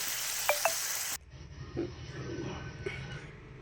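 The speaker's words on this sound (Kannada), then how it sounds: "ನೋಡಿ ಫ್ರೈ ಆಗಿದೆ ಸ್ವಲ್ಪ ಹಿಂಗೆ ಹುರ್ಕೊಂಡಿದ್ದೀನಿ ಚೆನ್ನಾಗಿ" Avarekalu greens fry in oil in a pan, a bright hiss that cuts off abruptly after a second, leaving a quieter low sizzle with a few soft stirring taps and a brief faint voice.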